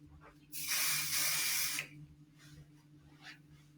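Session hair spray hisses onto freshly curled hair in one close, steady burst lasting a little over a second, then cuts off, leaving a quiet room with faint background hum.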